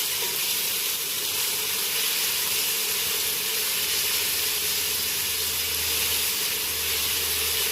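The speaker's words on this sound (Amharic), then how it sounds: "ሽንኩርቱን በደንብ አድርጌ እስከሚቀላ ድረስ አቁላላለሁ ማለት ነው።" Onions sauté in a pot for Ethiopian doro alicha, a constant loud hiss and sizzle with steady low rumble underneath and no clear breaks.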